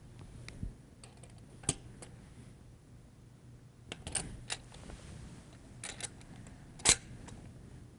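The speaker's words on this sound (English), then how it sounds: "it's time to securely fasten them using a torque wrench to the proper torque of" A torque wrench fastens sensors onto a triaxial mounting block in scattered, faint clicks and ticks, with a few sharper metallic snaps spaced irregularly over a quiet background.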